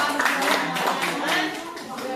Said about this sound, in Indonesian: Beri tepuk tangan untuk teman kita yang bisa menjawab